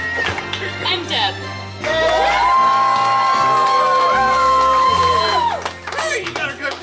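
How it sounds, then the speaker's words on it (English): A crowd at a Christmas party contest whooping, yelling and cheering loudly for a contestant, with shouts and a long sustained holler rising over the noise, then dropping back toward talk. "Hey, you got a good cheering section."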